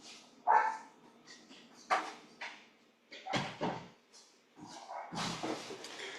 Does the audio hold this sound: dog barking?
yes